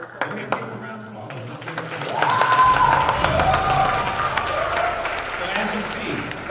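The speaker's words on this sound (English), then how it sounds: "Go ahead and give them a round of applause." Applause from an audience for student performers at a school in East Chicago, moderate and steady, rising after a couple of seconds and holding through the end, with voices and some cheering mixed into the crowd noise.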